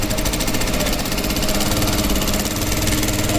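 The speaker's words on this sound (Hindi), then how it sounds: "देखिए बहुत ही स्मूथली ये जो है सिलाई कर रही है मशीन।" An LK-H1 sewing machine stitching steadily, a dense continuous mechanical whir with a fast rapid rhythm, close and fairly loud with no talking.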